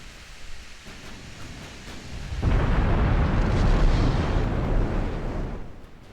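Warships fire high-explosive shells in a naval battle game, a sudden loud roaring rumble of gunfire and blasts that swells and sustains for several seconds before easing off.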